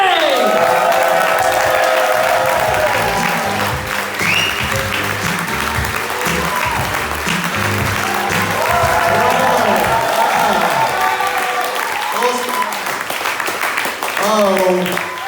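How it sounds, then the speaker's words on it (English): Loud, sustained applause and cheering from a small comedy club audience, steady throughout with whoops and voices rising over the clapping. "Stamp your feet, clap your hands, and give it up for Tadiwa Mahlunge!"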